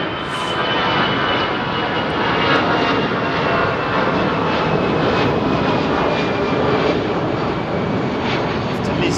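A Qantas Airbus A380 airliner approaching to land at London Heathrow, a steady, loud broadband engine roar sustained throughout without a break, with faint voices murmuring underneath.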